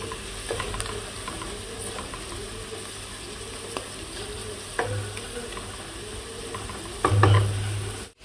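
Green peas sautéing in oil make a low, steady sizzle, broken by occasional clinks and scrapes of stirring, with a louder clatter near the end.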